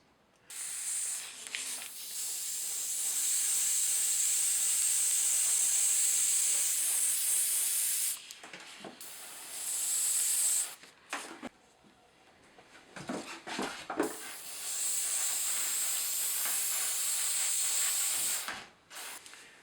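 Airbrush spraying acrylic rust base colour onto OO gauge model road vehicles: a steady close hiss in long bursts, broken by several short pauses and brief restarts.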